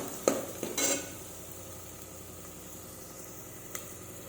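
Ginger frying in oil in a pan gets stirred with a utensil: a couple of metallic clinks and scrapes up front, then a soft, low sizzle continuing quietly.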